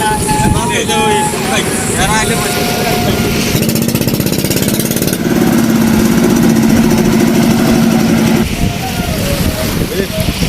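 A hilsa fishing trawler on the Meghna river runs its engine, a loud, rapid, chugging pulse close by, with voices audible underneath.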